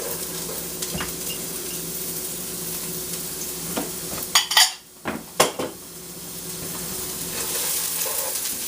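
Mushrooms and onions sear in a hot oiled pan with a steady sizzle, broken midway by a few clattering stirs and pan knocks before the frying hiss settles back in.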